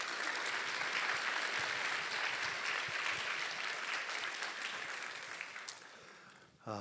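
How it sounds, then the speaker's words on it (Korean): Warm, steady applause fills a church as a congregation welcomes a pastor, a dense wash of clapping that holds for several seconds and slowly tapers off. "우리 뜨거운 박수로 환영하도록 하겠습니다."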